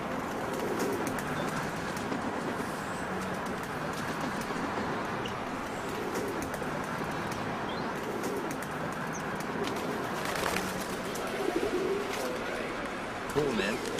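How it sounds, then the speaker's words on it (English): Pigeons coo and flutter in an outdoor city spot, soft repeated cooing mixed with wing flaps under steady background noise, with people talking nearby. "Let's go film the pigeons."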